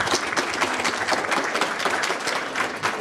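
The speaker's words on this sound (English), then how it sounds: "Big round of applause for this session." Audience applause closing a conference session on Delta Suisun tidal wetland restoration, a dense, steady wash of many hands clapping at full volume for about three seconds with no talk over it.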